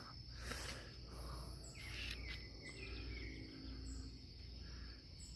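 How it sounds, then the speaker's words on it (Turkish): Morning outdoors in a hostel garden in Karachi: faint, scattered bird chirps and calls over a steady insect trill and low background hum, with no one talking. "Karaçi'nin de sabahı böyle kuş sesleriyle Uyanıyoruz işte."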